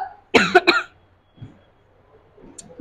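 A woman coughs twice in quick succession, sharp and close, followed by faint soft throat clearing and small breathy sounds in an otherwise quiet room during a lecture.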